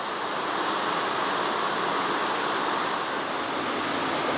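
A jungle river in the Amazon of Ecuador rushes steadily in a dense, even roar of flowing water, close and continuous with no voices.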